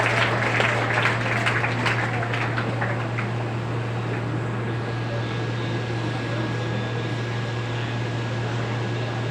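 Sustained applause from a crowd at a talent award ceremony, dense clapping that is strongest at the start and then settles into a steady wash, with a constant low hum underneath.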